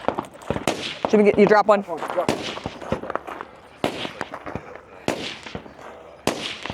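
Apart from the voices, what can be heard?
rifle shots at firing line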